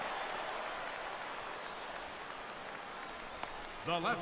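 A baseball stadium crowd gives a steady, broad roar and scattered applause reacting to a fly ball, with a brief voice breaking in near the end.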